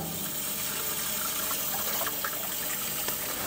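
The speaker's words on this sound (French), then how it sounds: "on va rincer l'échangeur à l'eau." Water rinses the heat exchanger of a Buderus Logamax plus GB142 condensing gas boiler during servicing, a steady splashing, trickling flow at moderate level with faint metallic clinks, no talking.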